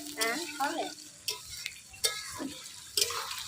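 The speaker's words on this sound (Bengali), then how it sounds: "আজকে সাদা তেলে বেরেস্তা ভাজবো" Sliced onions fry in white oil with a soft sizzle while a utensil scrapes and clinks against the pan in irregular strokes; a voice is heard briefly at the start.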